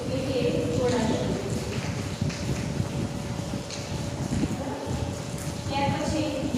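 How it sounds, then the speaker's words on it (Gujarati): A horse pulling a tonga clip-clops in a steady, continuous rhythm, fairly close, with other busy noise mixed in around the hooves. "એટલે કે ઘોડાગાડી."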